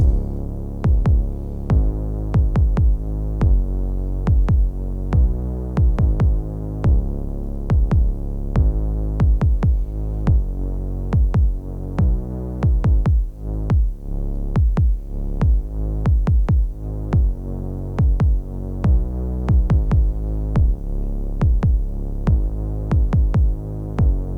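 A thick low hum swells and ducks in a steady repeating rhythm from sidechain compression, pumping hard on every beat throughout, loud and with no voices.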